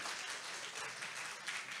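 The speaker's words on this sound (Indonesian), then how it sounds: "Boleh kita berikan aplaus untuk mahasiswa?" An audience at a university awards ceremony applauds students with continuous, fairly distant clapping that stays even for the whole moment.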